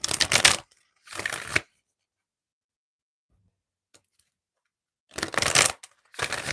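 Oracle cards are shuffled in quick riffling bursts, two at the start and two near the end, separated by a long silent gap.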